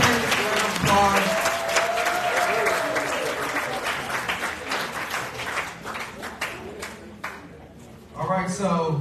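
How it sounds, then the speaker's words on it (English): An audience applauds at a municipal election candidates forum sponsored by the NAACP in Rocky Mount, with dense, sustained clapping and a voice talking over it, then a fresh swell of applause at the end. "give yourselves a round of applause."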